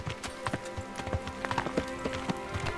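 Horse hooves clip-clop in the medieval game Kingdom Come: Deliverance, a quick run of close, uneven thuds and clacks over a faint steady background, with no one speaking.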